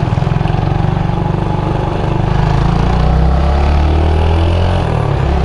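A motorbike engine running loud and close, a rough, throbbing drone whose pitch shifts slightly as the rider revs while moving into gear.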